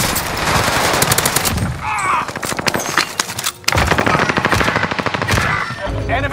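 Video game firefight with a new SMG: sustained bursts of rapid automatic gunfire, loud and close, with a brief lull midway before the shooting resumes.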